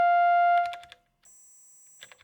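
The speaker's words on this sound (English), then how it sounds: "Use the keyboard to preview the wavetables" A Tonverk synthesizer plays a sustained wavetable tone from its keyboard, a steady harmonic note that holds briefly and then stops. Soft clicks of keys or buttons follow, then a thin high tone and another short burst of clicks.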